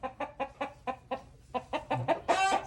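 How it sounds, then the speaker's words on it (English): A rooster clucks in a steady run of about a dozen short, evenly spaced calls, close and moderately loud, ending in a brief louder squawk, with no talk over it. "The other rooster finally decided to keep his distance."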